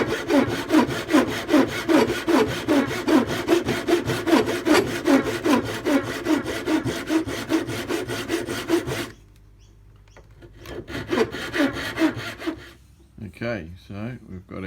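A hand saw cuts a slot into a new wooden hammer handle with brisk, steady strokes, close and loud for about nine seconds. After a pause, a few quieter rasping strokes follow.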